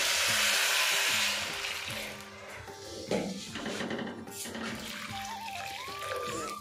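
Hot water is poured into a pan of Kashmiri pulao, giving a loud rushing splash and hiss at first that settles into quieter bubbling and sizzling, with scattered clinks of a utensil against the pan.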